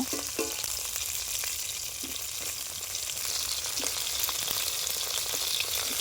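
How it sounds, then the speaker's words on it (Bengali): Prawns fry in hot oil in a pan with a steady, dense sizzle, broken by occasional light clinks of stirring. "ভেজে নেব"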